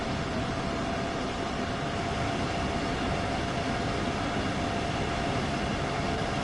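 Train Sim World 2 train on the Main-Spessart Bahn running at speed, a steady loud rumble with a constant tonal whine layered over broadband rail noise throughout, no talk.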